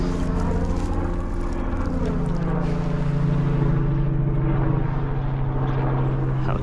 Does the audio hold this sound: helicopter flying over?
yes